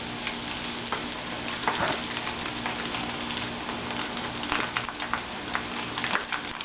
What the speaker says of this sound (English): I'm going to take this and drop it in this oil.